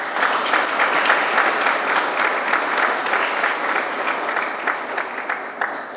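An audience at a presidential reception for winning student authors and teachers of a national primary and secondary school science fair claps in thanks, a dense, steady round of applause throughout.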